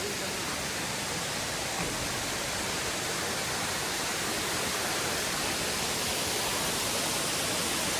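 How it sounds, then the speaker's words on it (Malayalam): A waterfall roars as a steady, unbroken wash of rushing water that stays even in loudness from start to finish, with no voices heard. "ആടെയാണ് യഥാർത്ഥത്തിൽ വെള്ളച്ചാട്ടം"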